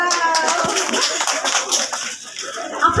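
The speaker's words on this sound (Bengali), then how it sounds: "আরো হাততালি দেন জোরে।" An audience at a pitha rice-cake festival applauds, a dense wash of many hands clapping at once with voices mixed in, fairly loud and continuous throughout.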